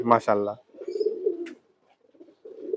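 A pigeon coos in low rolling phrases at close range, with a person talking briefly at the start and a short pause before the cooing resumes.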